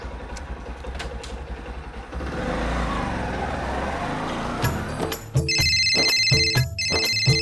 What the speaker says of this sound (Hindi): किंगो फोन आ गया बीच में